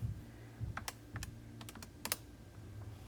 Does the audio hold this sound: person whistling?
no